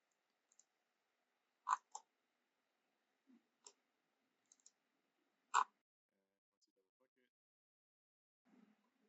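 A computer mouse clicking while working in Onshape CAD software: several sharp, isolated clicks, some in quick pairs like double-clicks, spaced apart in a quiet room with no talking.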